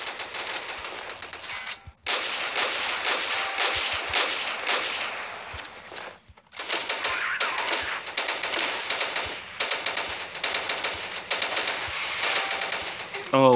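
Rapid, sustained machine gun bursts in the online shooter Rival Fire, dense and close, with two brief gaps between long strings of fire and some talk mixed in.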